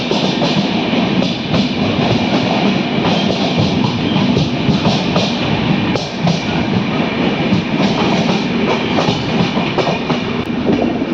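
Hampi Express passenger train rolling on after leaving Koppal toward Banapur: a loud, continuous rumble of wheels and carriage with steady rhythmic clatter, heard from inside the coach with no talking.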